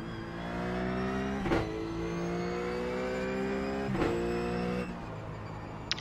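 A RUF race car engine drones and revs at Sonoma Raceway in a racing video game, a steady, fairly loud tone that rises in pitch with two sharp gear-shift breaks.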